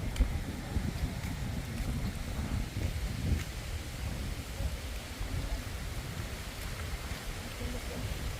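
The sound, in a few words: rain falling outdoors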